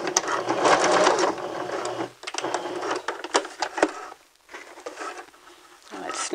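Home sewing machine stitching fabric during a beginner sewing lesson, a steady close whir that stops briefly and resumes in short bursts for a back stitch near the end.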